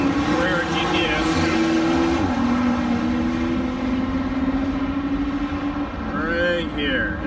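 A Porsche 911 Carrera GTS laps a driving course at over 100 mph, its engine a steady, loud drone that dips once and then climbs again, with a voice talking over it.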